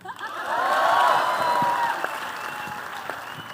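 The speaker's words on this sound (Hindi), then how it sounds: "तालियां." Crowd applause at a Bollywood film promotion event, swelling loudly then tapering, with cheers and whistles rising briefly over the dense clapping.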